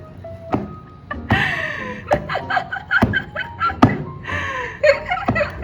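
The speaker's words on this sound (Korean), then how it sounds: "이제 팡팡팡 치면서 공기를 좀 빼어보세요." Sharp, repeated slaps of soft, dense clay struck by hand to knock out air in a university craft studio, irregularly spaced, with brief laughter and voices between the hits.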